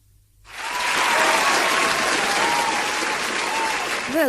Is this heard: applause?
yes